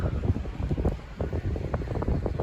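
Strong gusts buffet the microphone outdoors in a street in Ballarat, a continuous rumbling, uneven roar that surges and dips throughout with no voices.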